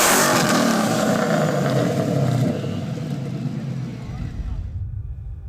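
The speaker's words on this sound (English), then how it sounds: "it was pretty obvious that this is a gnarly Mustang sound" A loud Ford Mustang engine roars and revs, then gradually fades away into the distance.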